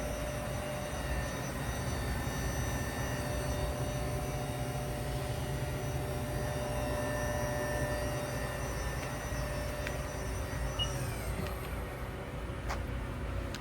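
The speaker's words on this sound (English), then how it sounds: "the preceding video is a 2012 Haas VF2 CNC vertical machining center" A 2012 Haas VF2 CNC vertical machining center spindle runs at 8,100 RPM, a steady high whine with sustained tonal hum, fairly quiet and unbroken, then shifting slightly as it winds down near the end.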